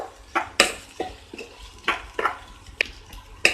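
Onions and coconut are sautéed in a pan, stirred with a spoon, producing sharp scraping clinks at an uneven rhythm over a faint background hiss.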